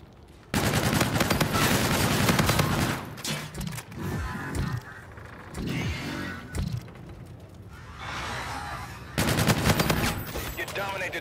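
Rapid bursts of video game gunfire, loud and sustained, with sharp machine-gun volleys broken by brief gaps and scattered shots.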